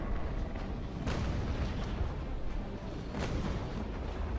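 Sailing-ship cannon fire in Naval Action, broad booming shots rolling over steady sea and wind noise, with two sharper blasts standing out amid the continuous roar.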